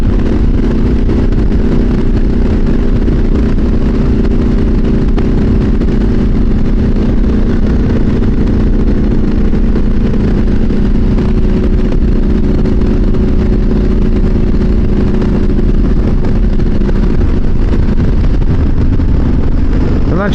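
A Triumph SS900 motorcycle runs at speed in a loud, unbroken engine drone with heavy wind roar, steady for the whole stretch, and a voice may sit buried beneath the noise.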